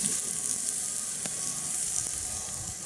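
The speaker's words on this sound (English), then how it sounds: "our cooking fire that is boiling our water, roasting our corn" Steady sizzling and hissing of steaks and corn cooking over a campfire at Copper Breaks State Park, with a few faint pops and crackles.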